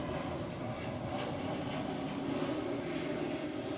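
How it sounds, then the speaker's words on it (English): An airplane drones overhead as a steady, broad roar that holds at moderate level throughout, slightly distant and unchanging, with no voices. "Hold for the plane."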